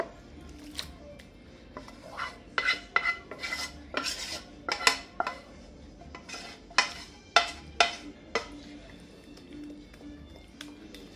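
Eggplant, tomato and tuna mixture scraped and poured from a pan into an oven dish, giving a series of close, sharp utensil clinks and scrapes against cookware over a faint background.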